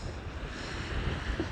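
Strong wind gusts buffet the microphone on a seafront promenade, a dense rushing roar with low rumbling blasts, steady and close, no voices.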